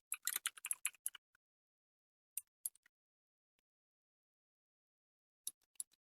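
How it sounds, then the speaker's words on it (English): Quick bursts of keyboard typing, a flurry of clicks at the start, then a few scattered keystrokes and another short burst at the end, close and quiet. "I will now be typing the Goodberry."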